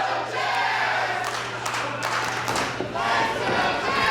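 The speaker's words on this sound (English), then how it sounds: "As the crowd immediately gets behind the challenger here." A women's wrestling crowd at a SHIMMER championship bout cheers the challenger with a steady, loud roar and chanting that swells and holds across the whole stretch.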